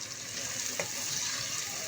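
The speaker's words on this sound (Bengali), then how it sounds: "ঝাল পেঁয়াজগুলোকে এখন আমরা একটু ভালো মতো ভেজে নিচ্ছি।" Onions and whole spices such as cinnamon and cardamom fry in oil for a Bangladeshi khichuri, a constant close hissing sizzle with a couple of soft stirring knocks and no speech.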